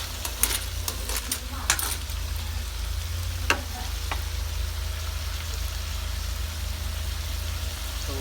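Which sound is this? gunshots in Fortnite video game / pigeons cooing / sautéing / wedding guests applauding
sautéing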